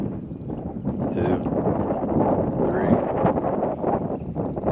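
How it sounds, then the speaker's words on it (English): Wind blowing over open saltwater in Florida during kayak fishing, a steady broadband rush with gusty buffeting against the microphone that holds throughout. "It's a little windy."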